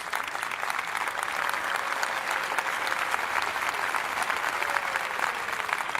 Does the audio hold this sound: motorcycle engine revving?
no